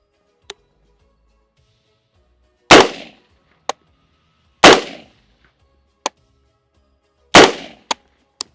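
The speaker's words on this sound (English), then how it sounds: "I naturally started shooting the solid running target" M16A2 rifle fired at a running target on a range: three loud, sharp shots spaced a couple of seconds apart, each with a trailing decay, interleaved with fainter sharp clicks or distant reports, no talk.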